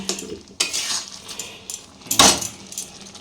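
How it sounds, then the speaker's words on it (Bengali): Carrot laddu mixture stirred in a pan at home, a utensil scraping and clattering against the metal in a few loud, irregular bursts with quieter scraping between. "ততক্ষণ পর্যন্ত আমাকে নাড়তে হবে ভালোভাবে"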